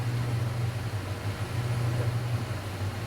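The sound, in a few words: Speed Queen AWN432 washing machine spinning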